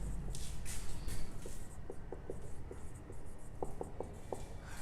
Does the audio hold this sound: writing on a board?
yes